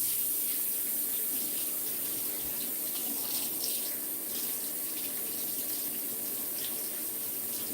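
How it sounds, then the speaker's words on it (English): Steady hiss of water running from a tap into a sink while hands are rinsed during at-home hair bleaching, continuous and close throughout with no speech. "I'm going to rinse my hands off."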